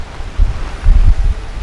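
Wind gusting on the shore at Barton's Point during a winter night fishing session, a low rumbling buffet against the microphone that swells in two stronger gusts, with no speech.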